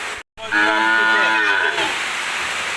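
A single long, loud cow moo, close by, following a brief moment of silence, then fading into quiet background.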